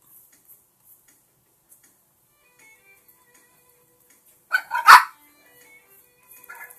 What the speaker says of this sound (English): as my dogs are fighting in the background.